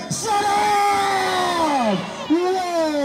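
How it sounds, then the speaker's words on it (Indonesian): Football supporters in a stadium shout and cheer, a loud crowd roar with rising and falling yells and whoops swelling and dipping throughout, close and dense. "teriakan dari supporter pada kali ini"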